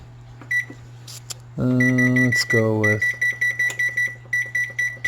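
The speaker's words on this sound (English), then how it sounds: "I gotta set the timer on this real quick." An oven timer being set gives a run of short electronic beeps, one per button press, close and clear. Someone speaks briefly over a low steady hum from the room.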